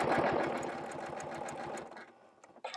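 A sewing machine stitches an appliqué circle over stabilizer, a close rapid mechanical chatter that runs steadily then slows and stops, followed by a brief click.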